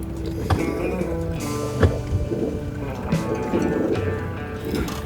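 A boat engine runs with a steady low rumble close by, with water slaps and wind buffeting the microphone over it.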